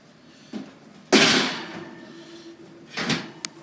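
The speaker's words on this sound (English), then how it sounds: "Close that oven because it is hot today." Oven door swung shut after baking brownies, a single loud thud with a brief rattle, followed a couple of seconds later by a softer knock.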